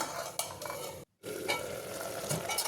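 A masala mixture coming to a boil in a pot for avarekalu bath, with busy close bubbling and sizzling, a sharp scrape near the start and a brief silent break partway through.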